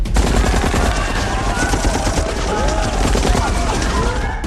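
Sustained automatic gunfire from someone opening fire at an airport, a dense, loud barrage of rapid shots running continuously with a busy, noisy backdrop.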